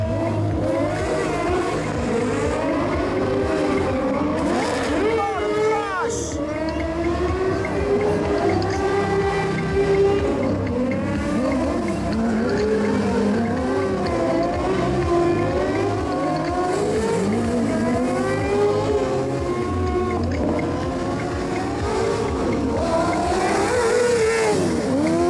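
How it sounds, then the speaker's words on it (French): Mini drift cars at an outdoor drift show make a continuous loud whine and rising, falling engine wails, layered with siren-like sweeping tones for the whole stretch, with no talk over them. "c'est les mini drift car"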